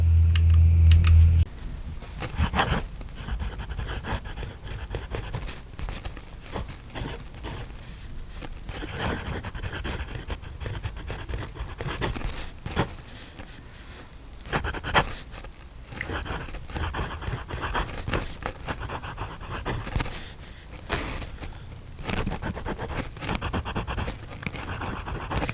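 A Jinhao 100 fountain pen writes on paper at close range, with soft scratchy strokes and light taps in an irregular rhythm throughout, quiet and without speech.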